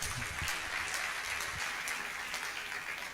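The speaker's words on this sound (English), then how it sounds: "let us clap for him" Audience clapping for a guest at a Kisii University public lecture, a steady diffuse wash of applause across the room throughout, moderately loud and unbroken.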